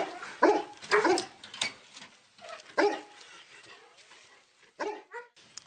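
Several young German Shepherd dogs bark loudly and close in uneven bursts, with yips and whimpers between barks and quieter gaps.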